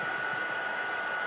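A heat tool runs on its high setting over a freshly stamped card, giving a steady, even whir with a faint constant whine throughout.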